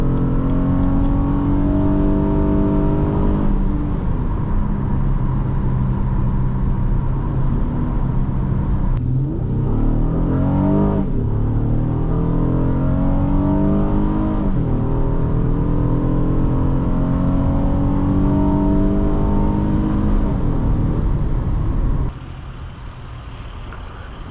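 A 2010 Acura MDX with a 3.7L engine revs up to about 6,500 rpm under hard acceleration, a loud, close, climbing engine drone with rising and falling sweeps through the gears before it drops to a quieter cruise near the end.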